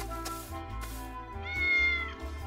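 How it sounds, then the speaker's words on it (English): A cat meows in the Triangle Strategy video game: a few clear, tonal meows in succession, the last one longer and rising, over a quiet background of game music. "I found another kitty!"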